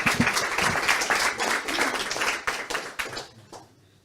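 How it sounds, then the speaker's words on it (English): A conference audience at an evening session in Stockholm gives a round of applause for a speaker, close, brisk clapping that runs steadily and then thins out and fades toward the end. "another round of applause for Bella"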